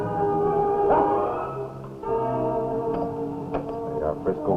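Sled dogs in a Yukon gold rush setting howl and bark in a steady, overlapping chorus with long wavering tones and sharper yelps, close and fairly loud, with some talk mixed in.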